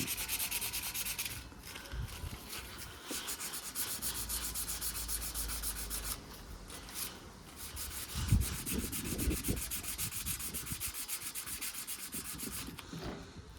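A Dremel rotary tool sands a metal kart frame being prepped for powder coating, giving a steady, close, high-pitched abrasive whine with a few brief changes in pitch and load across the run.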